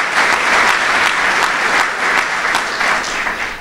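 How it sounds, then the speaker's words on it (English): Audience applause for a new school superintendent at a Camden civic gathering, a dense, steady burst of many hands clapping together throughout, loud and sustained with no talk over it. "Let's give our superintendent a round of applause."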